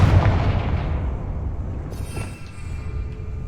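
A Confringo blasting spell goes off in a Harry Potter video game, a single loud booming explosion that rolls off into a fading rumble over a few seconds.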